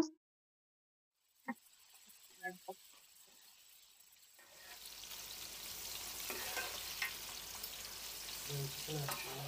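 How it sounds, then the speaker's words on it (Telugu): Tomato pieces hit hot oil with onions in a pan while cooking chicken curry, bringing a steady, close sizzle that builds after a quiet start with a few clinks and stirring sounds. "ఇప్పుడు టమాటా ముక్కలు కూడా వేస్తున్నాను"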